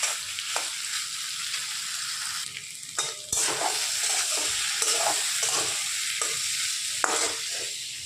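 Vegetarian curry with pumpkin fritters sautéing in a kadai, with a loud, steady frying hiss and intermittent scraping and clanks as a spoon stirs the pan.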